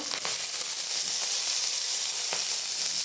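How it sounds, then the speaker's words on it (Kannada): Green chillies, dry chillies and curry leaves fry in hot oil for a banana flower dish, a loud continuous sizzle and hiss with a few sharp spits and crackles and no talking. "ಹಸಿಮೆಣಸಿನ್ಕಾಯಿ, ಒಣಮೆಣಸಿನ್ಕಾಯಿ, ಫ್ರೈ ಮಾಡ್ಕೋಬೇಕು."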